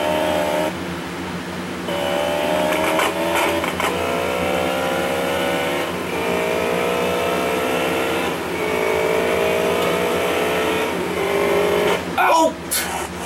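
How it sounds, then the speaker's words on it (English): Motorbike in Grand Theft Auto San Andreas ridden toward a plane's cargo ramp: a buzzing engine rising and falling in pitch as it revs and accelerates, with a person talking over it and a brief crash near the end. "Drive the bike to the plane's ramp."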